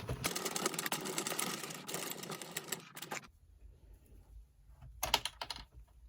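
A circular knitting machine letting its stitches drop off, giving a dense, rapid mechanical clatter for about three seconds that cuts to near quiet, then a short second burst of clicking near the end.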